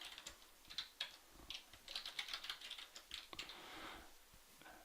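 Rapid, irregular clacking of keys on a computer keyboard while a name, username and password are entered, close and moderately loud, in bursts with brief pauses and no talking.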